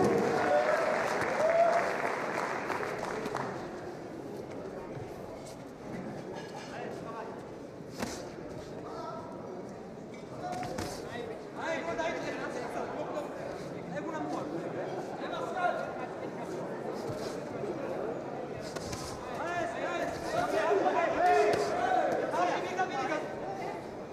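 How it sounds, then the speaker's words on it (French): A boxing crowd at a title bout keeps up a continuous wash of applause and chatter, moderately loud and distant, swelling at the start and again near the end, with scattered shouts and voices throughout. "Allez, toujours le bruit, l'ambiance, les applaudissements et les encouragements."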